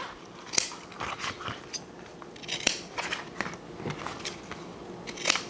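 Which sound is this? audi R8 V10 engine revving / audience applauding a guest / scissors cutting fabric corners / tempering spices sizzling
scissors cutting fabric corners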